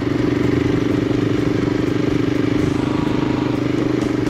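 A Royal Enfield Himalayan motorcycle climbing uphill on Scaly Mountain near Highlands, North Carolina, its single engine thrumming loud and steady from close up, with wind noise and no pause throughout.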